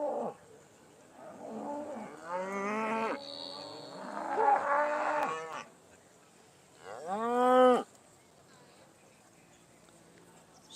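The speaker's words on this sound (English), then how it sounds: "as the cattle are starting to line up" Beef Shorthorn cattle moo at a large agricultural show in Yorkshire, several loud drawn-out bellows close by with a busy crowd murmuring underneath.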